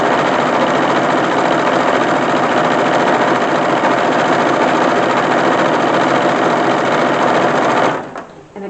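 A sewing machine stitches a narrow rolled hem about 3/8 inch wide in wool for an 1870s dress, running loud and steady with a continuous whirring drone for nearly eight seconds before stopping abruptly.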